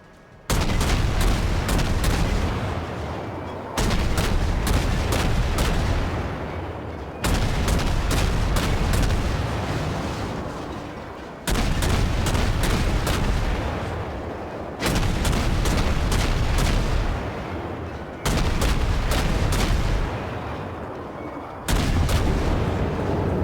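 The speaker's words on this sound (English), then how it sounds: "You can see the gunfire power of the Fletcher is pretty brutal." Fletcher-class destroyer naval gunfire in the World of Warships video game: heavy booming salvos repeat roughly every three to four seconds, each loud crack followed by a decaying rumble, seven volleys in a steady rhythm with no talk.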